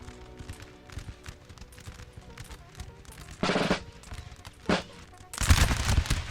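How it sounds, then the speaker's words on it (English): Musket volleys crack out in a Napoleon: Total War battle, with one broad burst mid-clip, a shorter one after and a heavier ragged volley at the end, over a constant murmur of game ambience. "Not the entire unit is firing though."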